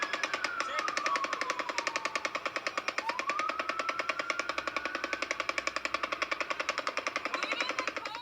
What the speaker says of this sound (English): Wow, you could hear all the machine gun fire.